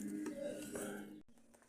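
Fish pieces tossed by hand in a bowl with a spice coating of cornflour, maida flour, garam masala, kasuri methi, fish masala, chilli powder and salt for a fish fry, giving close, soft scraping and clinking of the bowl.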